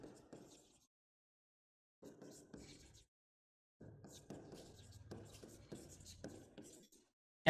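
Chalk or marker strokes on a board during an accountancy lecture come in short scratchy bursts separated by pauses, then a longer run of writing, close and moderately quiet.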